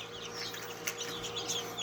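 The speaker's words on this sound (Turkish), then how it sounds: "Bu normal Arakuna civcivimiz." Newly hatched Araucana chicks in an incubator give faint, scattered high peeps over a steady machine hum, a few brief chirps close by.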